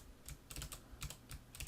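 Computer keyboard keys pressed in quick irregular clusters, crisp close clicks and taps with brief pauses between bursts, no voices.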